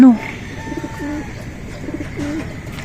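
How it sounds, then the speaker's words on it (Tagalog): Racing pigeons arriving home after a 127 km club training flight in San Jose, Nueva Ecija, give soft repeated coos and fluttering sounds nearby, after a sharp brief noise at the start. "Si leader tsaka si Pearl ay mga kalapatids. Sila yung nakauwi"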